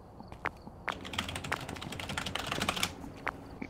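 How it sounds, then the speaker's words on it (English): Computer keyboard keys clatter in quick irregular bursts of clicks, faint and close, as someone types during an online Phasmophobia game session. "I don't hear the clickety-clack of your keys anymore"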